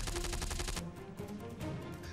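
Gunfire from militants holed up in a cave during an encounter with security forces in the Tral area of south Kashmir, a rapid burst of automatic fire followed by scattered, echoing shots at a distance.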